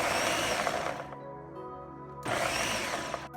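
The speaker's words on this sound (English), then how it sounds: "Cover with a lid and blend for about 30 seconds at a time until it's well combined" A covered blender whirs through a falafel mixture with garlic and olive oil, its motor roaring loudly, easing to a lower hum for about a second, then surging back to full speed.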